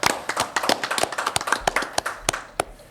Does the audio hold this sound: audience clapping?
yes